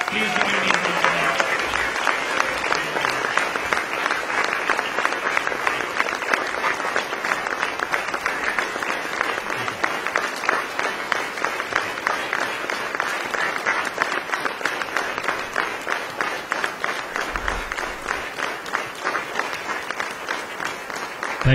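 A large audience in Silicon Valley claps steadily and continuously to welcome Prime Minister Narendra Modi, a dense, even wall of applause with faint cheers.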